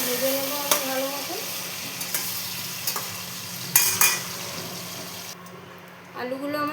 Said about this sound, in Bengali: আলুটা ভেজে নেবো আমি ভালো মতো